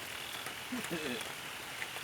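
Steady rain pours during a storm, a dense constant hiss of falling water that fills the scene, with a voice briefly heard under it.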